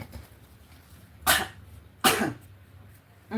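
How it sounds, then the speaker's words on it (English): A person clears their throat twice in short, rough bursts, with a third starting at the end, over a quiet room. "Let me clear my throat real fast."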